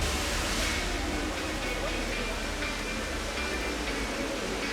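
A fountain of healing spring water in Mariánské Lázně, Czech Republic, gives off a steady, full rush of splashing water that stays close and continuous throughout.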